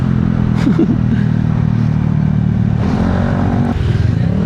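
A motorcycle on a food delivery run sits in heavy Friday traffic, its engine droning loud and steady up close, with occasional rattling clatter and a slight rev near the end.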